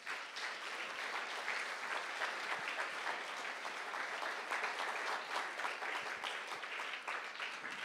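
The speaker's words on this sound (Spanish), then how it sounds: "Denle una ofrenda de aplauso al Señor." A church congregation claps steadily through the whole stretch, a dense, even wash of many hands filling the room with no talking on top.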